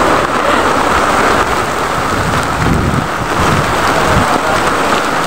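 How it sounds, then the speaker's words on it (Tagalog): Heavy rain pours down steadily, a loud dense hiss of drops with a low rumble underneath, no voices. "Sobrang lakas ng ulan."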